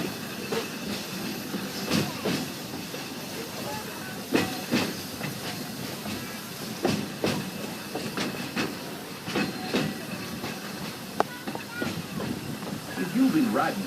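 The Walt Disney World Railroad steam train runs along the Grand Circle Tour of the Magic Kingdom: a steady rumble of rolling cars with rhythmic clicks from the wheels and soft hissing from the steam.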